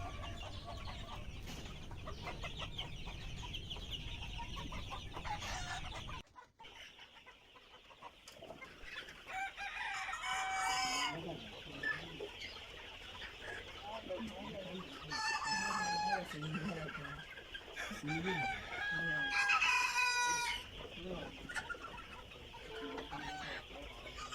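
Two-month-old Egyptian Fayoumi chickens cluck steadily with several loud roosters crowing, a busy farmyard chorus; a brief drop in sound partway through before the crowing and clucking resume.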